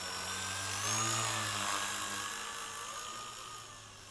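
Close, steady whine of a Blade RC helicopter's electric motor and spinning rotor at full power, tapering off slightly toward the end, with no voices.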